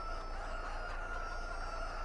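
Chickens clucking in the farming game Landwirtschafts-Simulator 22, a steady, fairly quiet mass of poultry chatter with a constant tonal hum running through it, no speech.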